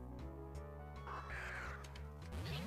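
A bird Pokémon's cry in the game Pokémon Black, a harsh crow-like squawking call over layered game music, loud and close, repeating in short bursts.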